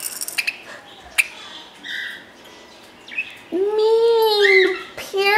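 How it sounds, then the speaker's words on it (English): Several chirps and warbling calls from a pet parakeet named Bullet playing with her toys indoors, mixed with small knocks and rustles; a sustained, louder whistling chirp rises near the end. "Mean parakeet."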